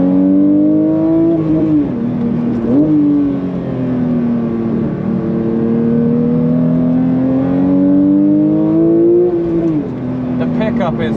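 Porsche 922 GT3 Touring flat-six revving and accelerating, a loud, close engine note rising and falling in pitch through several gear pulls across the whole stretch.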